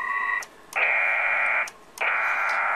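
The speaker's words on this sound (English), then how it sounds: "You can actually hear the tones there. That's actually the station in Bulgaria answering back." Digital data tones from a Yaesu FT-817ND portable ham radio on a 5-watt battery setup, a steady buzzing tone in two long bursts separated by short pauses, loud and close.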